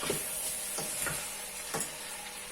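Beans sizzling as they fry and roast in a pan, a steady close hiss with occasional soft stirring scrapes, no talk.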